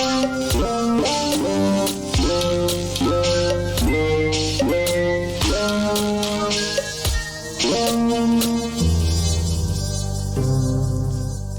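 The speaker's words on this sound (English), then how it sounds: "All the sounds apart from the percussion sounds you're hearing now are from that K1" Kawai K1 keyboard synthesizer patches playing a looping melodic pattern of tonal notes over a low bass line, with separate percussion hits keeping a steady beat, close and clear with no talking.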